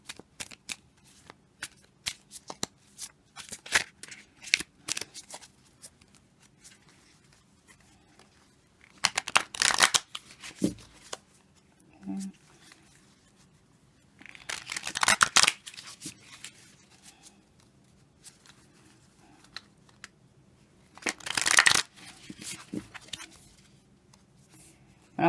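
Tarot cards are shuffled by hand in repeated bursts, soft riffling and flicking interspersed with several louder, sharper shuffles spaced several seconds apart, close and clear without speech.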